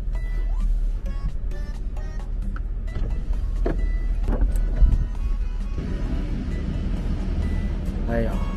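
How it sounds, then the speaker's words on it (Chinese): A BMW Z4 M40i convertible's roof opening with a steady electric motor whir inside the car, punctuated by a few mechanical clicks, while a person talks over it. "咱来开一下棚背"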